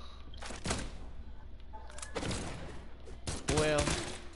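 Video game gunfire crackles in quick bursts over a constant noisy background, with several separate volleys and a louder rattling burst near the end.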